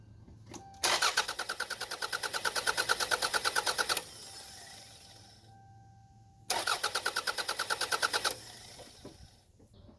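A car engine cranks without catching because its crank sensor signal has been disconnected: two rapid, even starter-motor bursts of about three seconds each, separated by a quiet gap, loud and close.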